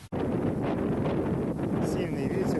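Strong gusting wind buffets the microphone at the ruins of an abandoned hilltop church, producing constant low rumbling and flapping noise through the whole stretch after a brief opening dropout.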